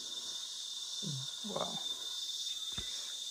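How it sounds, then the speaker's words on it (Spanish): Cicadas sing in the countryside around a farm plot, a continuous high, steady buzzing drone that fills the background while a person briefly exclaims and a few short voice sounds come through. "en este tiempo hay mucha chicharra, ¿eh? Cantidad chicharra, yo creo que como suena ella."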